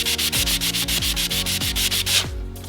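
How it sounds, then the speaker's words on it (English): Hand sanding spackle over a drywall screw hole to flatten a small raised area: steady back-and-forth rasping strokes in a regular rhythm, close and fairly loud, ending in a softer hiss. "So let's go ahead and continue to sand it just a little bit."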